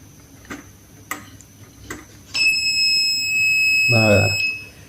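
A multimeter beeps during a continuity test on a rice cooker wire. A few soft clicks come first, then a steady, clear electronic tone holds for about two seconds, and a voice is briefly heard near the end.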